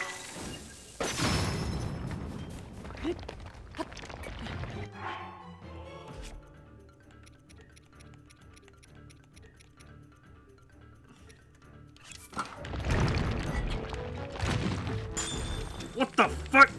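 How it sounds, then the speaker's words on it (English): Bombs blasting an Ice Talus in Zelda: Tears of the Kingdom, bursts of shattering, cracking booms at the start and again near the end, with quieter game sounds and a speaking voice in between. "let's go ahead and warm the ice talus up by shooting the shit out of him with bombs"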